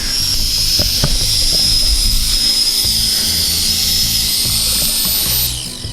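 Small SYMA X9 flying car drone motors whine loudly at full throttle, a sustained high-pitched buzzing close by, with light knocks underneath before the motors tail off at the end.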